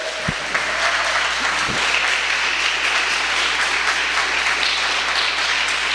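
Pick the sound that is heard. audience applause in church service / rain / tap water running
audience applause in church service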